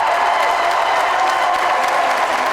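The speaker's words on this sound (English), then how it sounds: "the crowd applauds back" At a men's college volleyball match between North Central College and Loras College, the crowd applauds the players in a broad, even wash of clapping, with faint cheering mixed in and no speech.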